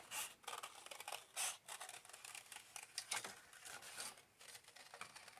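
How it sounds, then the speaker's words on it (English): Scissors snipping through paper to cut out crescent moon shapes, a quiet, close run of soft rasping cuts and rustles with no talking. "I'm going to cut my crescent moons out now."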